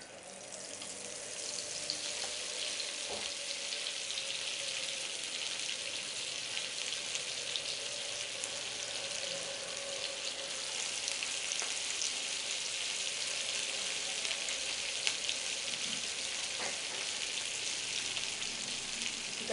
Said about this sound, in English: Now I'm going to shallow fry this in oil